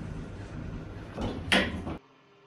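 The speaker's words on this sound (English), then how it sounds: "opening, going down" Elevator doors in the Roblox game slide open at Platinum Headquarters, giving a short, soft sliding swish. A sharper clunk near the end cuts off into near quiet.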